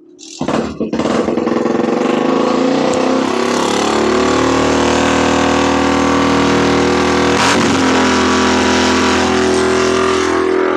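After a kick-start, a motorcycle engine at idle revs up on its own to a loud, sustained roar with a brief wobble near the end. It is close and continuous.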